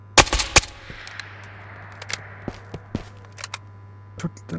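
Gunfire in the video game Ghosts of Tabor: a quick burst of close, sharp shots at the start, then scattered single shots and faint distant pops over a low steady hum.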